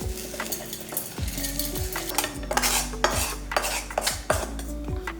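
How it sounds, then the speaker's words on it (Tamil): Cooked garlic and onion chutney ingredients are scraped from a pan with a metal spoon into a mixer jar, giving repeated clinking and scraping knocks in an irregular rhythm, close and fairly loud, with a faint sizzle beneath. "இதெல்லாம் எடுத்து ஒரு மிக்ஸி ஜாருக்கு மாற்றிக்கலாம்"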